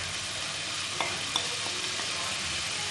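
Ground roasted cumin and other spices fry in masala for Kathiawari chole, giving a constant close sizzle broken by a few soft scrapes of stirring.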